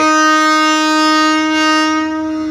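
A loud, sustained train horn blares steadily as one long, rich chord, holding at full strength before easing slightly near the end.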